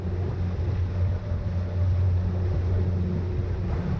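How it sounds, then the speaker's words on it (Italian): Two 300 hp outboard motors push a heavily loaded Fiart 35 Seawalker motorboat, a steady low engine drone with wind and water rush, constant and fairly close throughout. "a spingere tutta questa massa ci sono 2 motori fuoribordo da 300 cavalli"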